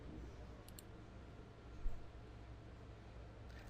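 A computer mouse gives a couple of faint, quick clicks early on, then only quiet background hum follows.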